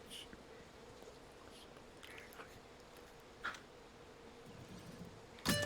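A low, steady buzzing hum of insects drones throughout at moderate volume, with a few faint clicks and a sharp burst near the end.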